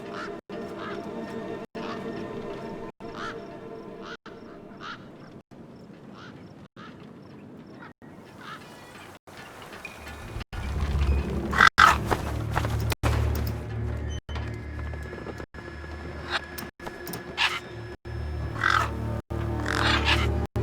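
Crows caw repeatedly in a wasteland scene of the video game Beyond a Steel Sky, with harsh calls spaced at a steady rhythm over a low ambient drone that swells and grows louder partway through.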